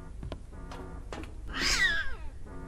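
A cat in the horror game Amber Alert lets out a loud, drawn-out meow over a low background hum and a few soft thuds.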